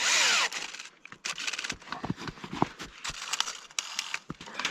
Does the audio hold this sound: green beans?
no